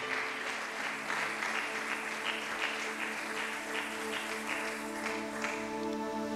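An audience in a church service claps and cheers together, a dense, sustained wave of applause filling the room for several seconds without pause.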